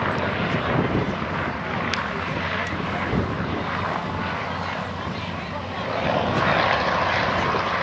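An Avro Tutor trainer biplane with a 7-cylinder Armstrong Siddeley Lynx radial engine drones steadily overhead at Old Warden airfield, a continuous propeller hum with wind noise and faint voices underneath.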